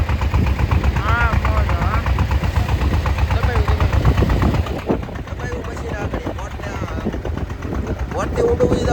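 A fishing boat's engine chugs out at sea at night, a rapid rhythmic low knocking that runs steadily throughout while people talk over it nearby.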